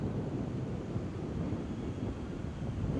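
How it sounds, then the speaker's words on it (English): Strong wind buffets the microphone with a constant low rumbling roar, gusting unevenly for a few seconds with no voices, while a DJI Neo drone flies. "even when it's super windy"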